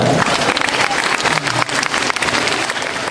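Audience applause at a school principal's retirement ceremony, a dense steady wash of many hands clapping throughout, fairly loud and close, with no talk over it.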